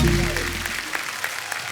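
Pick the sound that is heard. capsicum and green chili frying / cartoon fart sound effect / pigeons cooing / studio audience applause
studio audience applause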